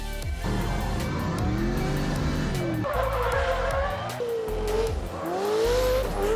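Drift cars skid around a race track in Riga, Latvia, engines roaring loud and close with long tire squeals rising and bending as the cars slide through corners, continuous with no voices.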